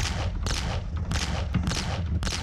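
Rapid repeated blasts of shotgun fire from the top-down zombie shooter game Boxhead, with quad-barrel fire and explosive barrels in play, roughly four bursts in a couple of seconds, loud and dense with no talk.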